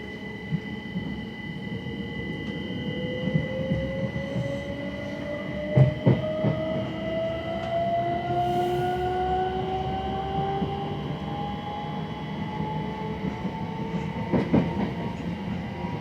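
A Southern Class 377 electric train runs on the rails, heard from inside a nearly empty carriage: a steady rumble with rising motor whines, occasional clattering wheel clicks over rail joints, and no talking.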